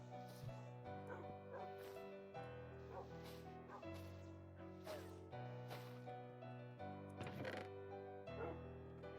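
Dogs bark and yip in a cave area of the Cobblemon video game, a Minecraft Pokémon mod, heard as short sharp yaps over continuous steady background music.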